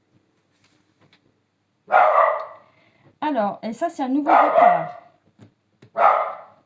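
A dog barks a few times, loud broadband bursts mixed in with someone speaking close by.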